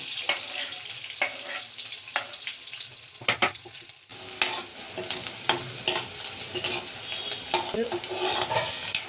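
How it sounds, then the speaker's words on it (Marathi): Onion with curry leaves frying in oil in a pan, close and lively sizzling broken by repeated scraping stirs and metallic spatula taps in an uneven rhythm. "याच्यात आता कांदा चांगला लाल होईपर्यंत परतून घ्या"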